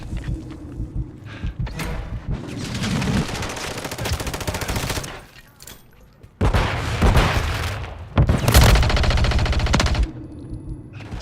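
Bursts of automatic weapon fire and heavy gunshots in the Call of Duty: Warzone video game, loud and dense volleys separated by brief quieter gaps, with no speech.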